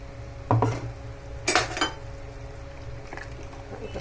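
Thick ground coconut paste plops into a pot with clinks of a utensil against metal, a couple of separate dollops over a low hum.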